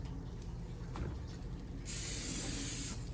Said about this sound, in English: let me get my spray here, y'all. Spray my grill pan.